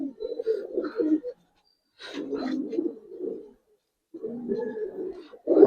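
Several bouts of low, rolling coos from Giribaz coloring pigeons, close by, come in three separate bursts broken by brief silences.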